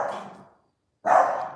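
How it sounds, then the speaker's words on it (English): A dog barks twice at another dog in a nearby yard, two close, loud barks split by a brief silence. "They hear another dog in, like, I guess another yard near me."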